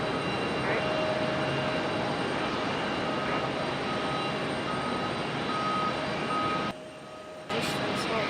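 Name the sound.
JetBlue airliner landing at Raleigh-Durham airport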